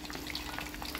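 Stuffed tofu with chicken filling, okra and eggplant fry in hot oil, a dense, close, continuous sizzle with crackling spatter.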